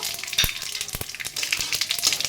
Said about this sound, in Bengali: কয়েক সেকেন্ড ভাজা ভাজা হবে